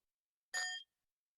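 A single bell chimes once during a worship service ritual at a fire communion, a brief bright ring that stands alone in silence and fades quickly.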